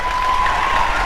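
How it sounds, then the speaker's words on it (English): A high school audience at a live show breaks into dense, continuous applause, a loud wash of many hands clapping at once in a brief burst. "If you want to hear him do word association, bang your hands together"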